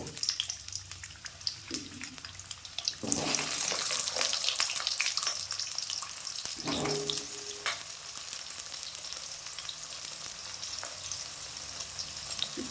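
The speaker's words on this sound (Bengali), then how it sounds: "বড়ি ভাজা তেলে আর একটু তেল দিলাম, আলুগুলি ভেজে নেব।" Potato pieces fry in hot oil in a pan while a Bengali neem shukto is cooked, giving a steady, close sizzle with occasional bursts and stirring scrapes.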